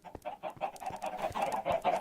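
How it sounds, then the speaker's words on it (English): Minecraft chickens cluck repeatedly in quick, uneven bursts, close and fairly quiet, with no talking over them. "those noisy chickens"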